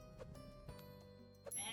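Goat bleating in the Age of Mythology video game: a couple of short bleats over quiet game background sounds, with a brighter effect at the end.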